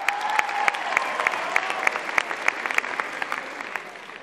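A talent-show crowd keeps clapping in a dense, even patter, with distinct loud claps popping out of the wash at regular intervals before the applause thins slightly near the end.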